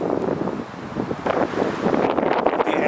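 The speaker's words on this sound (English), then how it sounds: "It's been steadily windy and getting windier today. It's gusting up over 20 miles an hour right now" Strong gusting wind in bitter Minnesota cold, loud, continuous buffeting across the microphone with surging, roaring swells and no voices.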